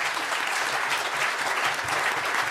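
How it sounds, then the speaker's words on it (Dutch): Audience applause fills a Club Rood gathering in Rotterdam, a steady, dense wash of many hands clapping at close range with no voices on top, holding even for the full span. "Maar ik wil wel even een applaus"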